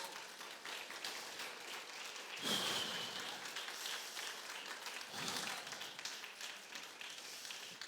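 Sustained applause from a church congregation, a steady dense patter of clapping with a couple of louder swells, filling the whole stretch without talk.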